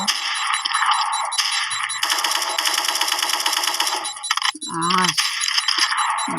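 AK rifle fire in a shooter video game: loud, close rapid automatic bursts with metallic rattling between volleys, and a brief voice near the end.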